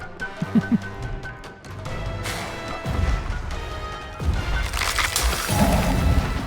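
Armor-form detonation in Eternal Strands: a loud crashing blast with rumbling impacts, followed by further heavy booms and debris as the effect plays out.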